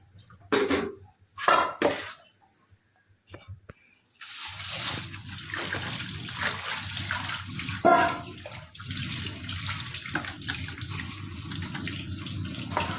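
Soaked sago pearls are rinsed under a running tap: a few splashy bursts of water at first, then a steady close stream of running water with light sloshing, no speech.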